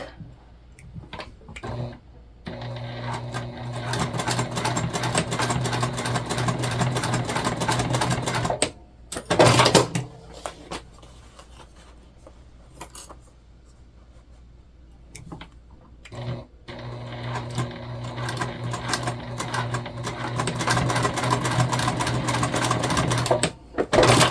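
A sewing machine stitches a fabric tote bag in long, rapid runs of mechanical clatter, stopping briefly between seams and then resuming, close by, with no talk.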